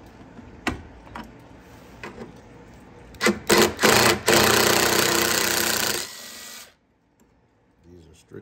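Bolts being removed from a 2014 Chrysler Town and Country 3.6 radiator with a power tool: several short buzzing bursts, then a longer loud whirring run lasting about three seconds before stopping, close by with no talk.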